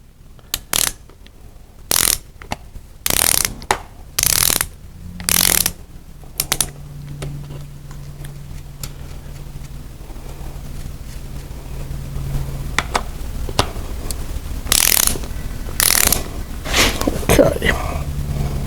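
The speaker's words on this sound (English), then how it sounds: "So, torque them down to 45 pounds." A torque wrench tightens the bolts on a 350 Chevy engine to 45 pounds during a Land Rover 90 restoration. Short bursts of close, sharp ratchet clicks come in separate runs with quiet gaps between them.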